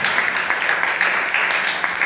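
Congregation applauding for the Lord during an evening church service, a steady dense wash of clapping from a crowd, even and sustained throughout.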